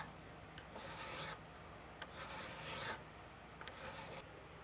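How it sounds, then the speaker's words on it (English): A twisted Damascus hunting knife is hand-filed with a finer file in three long rasping strokes, each about half a second to a second, with short pauses between them, close and moderately quiet. "I'm just going to give it a few more strokes with a finer file."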